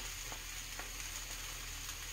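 Canned corned beef fries in a pan with a steady, even sizzle, close and continuous without breaks.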